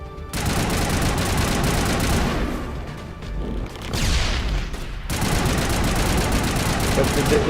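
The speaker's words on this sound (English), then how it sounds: "Let's switch to my assault rifle." Assault rifle gunfire in Mass Effect rattles in sustained loud automatic bursts, with a short lull in the middle before the firing resumes just as heavily.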